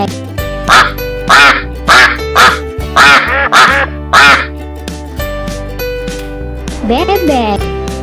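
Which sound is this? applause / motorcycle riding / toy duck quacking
toy duck quacking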